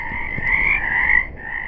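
Many frogs call together in a steady croaking chorus that swells and eases slightly, heard on its own at moderate distance.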